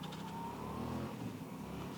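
A Yamaha motorcycle engine revs and pulls hard, a steady loud drone with rising pitch, close by and continuous.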